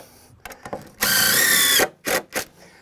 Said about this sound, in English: Drive your screw.